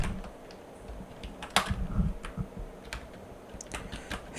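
Keystrokes on a computer keyboard while code is typed, a quiet run of irregular clicks with one sharper burst of taps near the middle, no talking.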